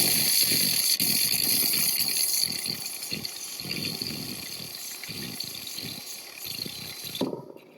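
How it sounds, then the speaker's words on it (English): A Ninja Cafe Luxe Premier Series coffee machine's steam wand self-purges hot, steamy water into the drip tray, giving a steady hissing, bubbling gush with uneven surges that stops abruptly near the end. "The hot steamy water is about to come down now."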